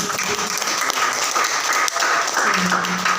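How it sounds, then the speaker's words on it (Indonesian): An audience at a therapy session claps in a steady, moderately loud patter, and brief sounds from the room break through the applause. "Kasih tepuk tangan dulu dong Mbak."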